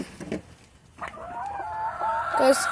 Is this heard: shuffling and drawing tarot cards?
no